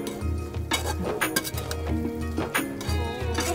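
Boondi being stirred in a metal pan for motichur laddu, a metal spoon scraping and clinking against the pan in steady, repeated strokes close to the listener.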